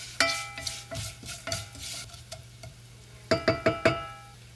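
A ladle stirring fennel seeds in a hot tempering pan for sambar: sharp metallic clinks and scrapes in uneven bursts, ending in a quick run of four taps, over a faint sizzle with no speech.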